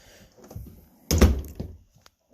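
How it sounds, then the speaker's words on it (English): The door of a 2010 Forest River Wildcat RV is pulled shut, a single close, solid thunk after some faint shuffling. "Let's just grab that again and close the door."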